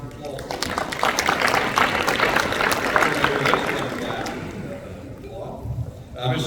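An audience at the Sea-Air-Space 2025 panel on space assets in maritime security applauds a panel speaker. The clapping is dense and steady for about four seconds, then thins out.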